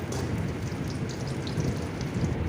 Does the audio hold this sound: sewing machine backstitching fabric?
no